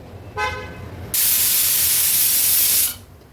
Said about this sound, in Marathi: आता हाय फ्लेमवरच 3 शिट्ट्या काढून घेते।